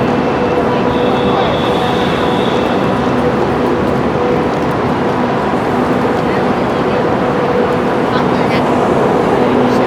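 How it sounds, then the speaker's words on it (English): Loud, continuous rumble and rattle of a moving train in China, steady throughout with faint high squeals near the start. "Trying to catch up with the train."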